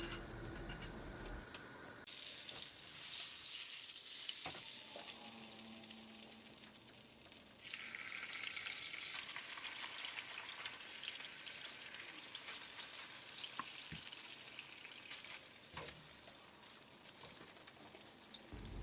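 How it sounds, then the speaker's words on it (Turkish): Steady sizzling and crackling of cheese frying in melted butter and oil in a pan, close and continuous, with a few light clicks and taps of utensils; no voices. "peynirlerimi tavada kızartıyorum"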